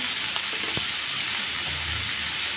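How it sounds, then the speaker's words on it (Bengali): Spiny gourd sautés with chilli, turmeric and salt in a pan, giving a steady, even sizzle with a few soft stirring knocks. "কাঁকরোল এটা দিয়ে এখন সুন্দর করে কষাবো"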